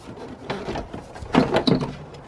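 Plastic airbox sections of a BMW N52 engine bay are pulled free by hand, giving close scraping, creaking and knocking plastic sounds with a couple of sharper clunks.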